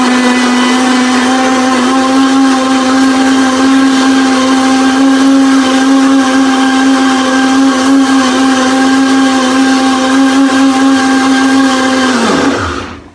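A blender runs steadily on ingredients for Yemeni zurbian, a loud, even motor whine held for about twelve seconds before spinning down and cutting off at the end.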